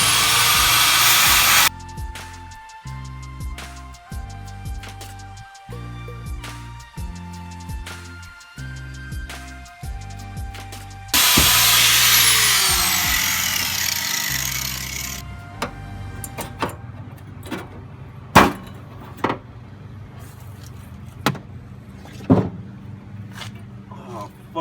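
A power tool cuts an opening for a fuel pump on a Camaro/Firebird, loud steady whirring and grinding with bursts that stop and restart, ending in sharp knocks and clanks close by.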